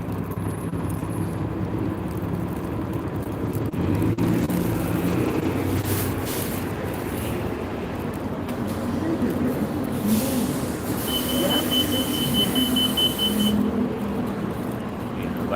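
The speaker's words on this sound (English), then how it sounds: "Let me get on this bus." City bus interior while boarding and riding, a continuous rumble of engine and road noise with passing traffic, brief higher mechanical tones and hisses, under someone talking close by.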